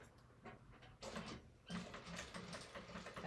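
A sewing machine back-stitches webbing on a sling, quiet mechanical whirring and clicking in short runs with brief pauses between, faint and close.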